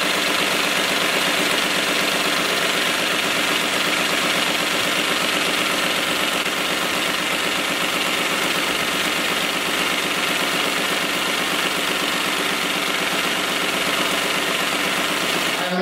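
Hemstitch machine stitching household linen with Aurifil thread, a loud, continuous mechanical whir with a fast, even rhythmic clatter, steady and close throughout.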